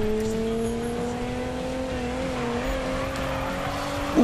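A car drifting in the Need for Speed 2015 video game, its engine holding a steady sustained tone while the tires squeal through the slide, loud and close, with a sharper burst at the very end and no voices.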